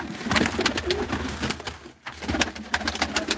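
Pigeons coo at a pigeon loft, soft throaty calls over a busy, rustling background with a brief quiet dip midway.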